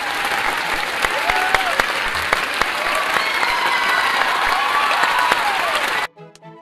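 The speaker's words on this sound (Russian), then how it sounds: "аплодисменты, овации в студию." Studio-style applause and ovation effect: a dense, steady wash of many hands clapping for about six seconds, then cut off abruptly as brief music follows.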